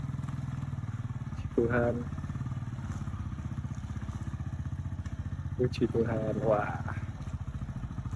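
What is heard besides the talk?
motorcycle engine running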